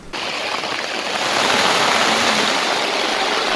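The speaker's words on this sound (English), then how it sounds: "It did rain for a short little while, but not very long at all." Steady rain patters down around a sailboat at its mooring in Backman's Cove, Nova Scotia, a broad hissing wash that starts abruptly and holds loud and even throughout.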